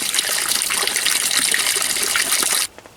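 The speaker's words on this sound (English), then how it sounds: "I like this creek set up" A small creek in an outdoor cooking spot on a rainy day rushes and gushes steadily, loud and close, then cuts off abruptly near the end, leaving a few faint drips.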